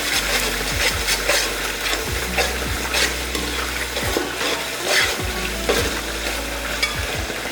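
Ginger garlic paste sautés in oil and ghee for mutton pulao, a continuous sizzle and crackle punctuated by repeated scraping stirs of a spoon against the pan.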